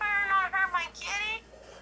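A cat in the video game Miitopia meows twice, clear and close, with a higher rising cry following before the sound fades out.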